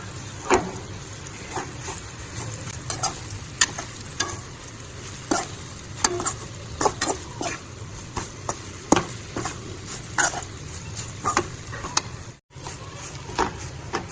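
A spatula scrapes and taps steadily in a pan, stirring leftover roti pieces with chutney powder, with a soft sizzle underneath and a quick, irregular rhythm of clicks throughout.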